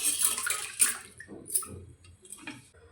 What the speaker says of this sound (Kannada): ಈ ಥರ ನೀರು ಹಾಕ್ಕೊಂಡು ಚೆನ್ನಾಗಿ ಕೈ ಆಡಿಸಿ ಅಕ್ಕಿನ ತೊಳಿಬೇಕು.